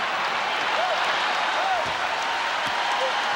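A basketball arena crowd roars steadily for the Suns during the 1993 NBA Finals Game 6 against the Bulls, a dense, unbroken wash of cheering and noise from a large crowd.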